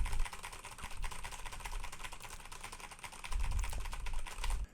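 Fast, frantic typing on a computer keyboard, recorded by an Audio-Technica AT2020USB+ USB microphone a few inches away, as a dense stream of clicking keystrokes with a few heavier thumps.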